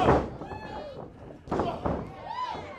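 Open-hand chops landing in a tag-team pro wrestling match: two or three sharp, loud slaps spaced apart, heard beneath a commentator's voice.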